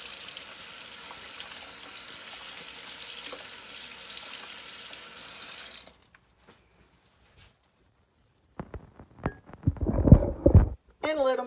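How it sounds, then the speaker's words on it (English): Running tap water pours steadily into a kitchen sink while a crocheted dish scrubby is rinsed out, then stops abruptly; after a pause come brief knocks and splashy handling sounds. "once you get through with them, you can just rinse them out."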